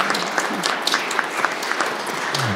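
Audience at an academic conference panel session applauds at the close, a full, steady burst of clapping from a room of people with distinct individual claps poking through, lasting about two and a half seconds without speech.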